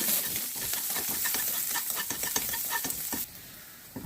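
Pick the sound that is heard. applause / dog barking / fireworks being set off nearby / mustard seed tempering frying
mustard seed tempering frying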